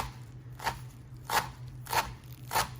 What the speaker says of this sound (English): you gotta really fine chop the parsley